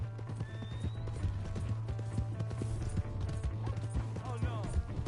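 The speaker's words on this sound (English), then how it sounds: "Hey, that's my horse!" Horse galloping with steady hoof clip-clop in the video game Red Dead Redemption 2, running continuously at close range over a low droning score, with a brief whinny and shouted voices in the mix.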